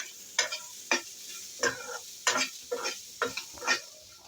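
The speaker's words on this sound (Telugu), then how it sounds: "వేసుకొని చక్కగా నూనెలో లైట్గా వేయించుకుంటే చాలా బాగుంటుంది." Sweet corn kernels fry lightly in oil with chili powder for a corn and carrot snack. About eight distinct stirring strokes rasp rhythmically over a low, close sizzle, with no voices.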